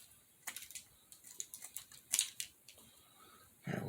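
Small snips of scissors trimming a handmade craft evergreen tree, a quiet irregular series of light clicks and cuts close up, with a louder rustle at the end.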